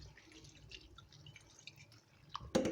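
Water drips and trickles from softened gelatin sheets squeezed by hand while making a New Year cake: quiet, scattered droplets, then a sharper splashing burst near the end.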